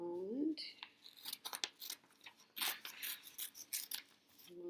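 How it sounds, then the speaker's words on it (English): Scissors cut through colored paper in a classroom-style lesson, giving several sharp snipping and rustling bursts close by, mixed with a voice speaking at the start and end. "I'm going to take my scissors and I'm going to cut it."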